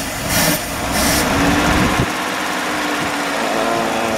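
An old motorhome engine runs steadily, a continuous close rumble with a higher whine on top, louder at first and then settling into an even idle.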